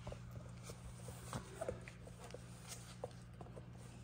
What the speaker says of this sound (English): So we'll watch the puppies play